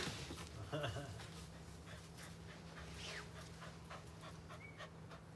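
Dog panting heavily close by, quick soft rhythmic breaths with a faint whimper early on, under a low steady hum.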